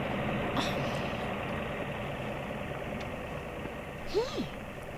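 A car engine idles with a low steady drone at a low level, a faint beep and a brief squeak rising partway through.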